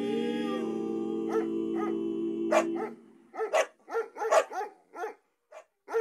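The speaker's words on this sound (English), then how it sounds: "Look at those dogs." Several dogs bark in a quick, uneven series of sharp yaps, loud and close, following a sustained violin-like tone that fades out; no talking over the barks.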